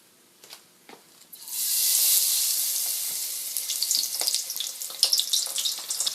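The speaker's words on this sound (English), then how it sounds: "So this is going to be our test fry right here." A test piece of shrimp tempura drops into hot oil and erupts into loud, bright sizzling that settles into steady crackling bubbling with occasional pops, close up and without voices.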